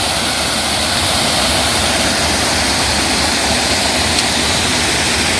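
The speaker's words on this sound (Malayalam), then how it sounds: "ആ പാടത്തു നിന്ന് വരുന്ന വെള്ളം ഈ പാറയുടെ മുകളിൽ തട്ടി ഒഴുകിയിട്ട് താഴേക്ക് പതിക്കുക" Kuruthikuzhi waterfall, a small drop where water from a paddy field runs along a channel and over rock before falling; a steady, loud broadband rush continues without a break.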